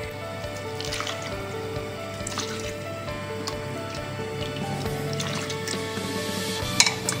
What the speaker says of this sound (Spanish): Ahora le echamos caldo.